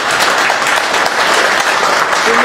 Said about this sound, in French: que je vais vous demander d'applaudir encore très fort